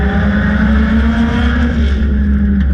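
Dirt track race car engines roar steadily during a Memorial weekend race, a loud continuous droning snarl with a strong low hum that holds close throughout.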